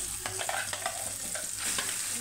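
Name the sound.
stirring ground radish chutney into fried tempering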